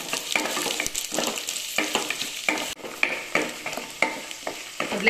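Ginger sizzles and fries in a hot pan, with repeated scraping stirs of a utensil cutting through the steady crackle.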